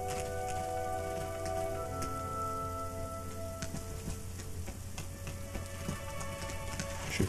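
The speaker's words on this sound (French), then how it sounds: "La bête semble réagir à un bruit assez puissant pour noyer le martèlement de la pluie." Rain pounds steadily in the video game Rain, a dense continuous hiss of drops on surfaces under faint sustained tones, loud and unbroken throughout with no voices.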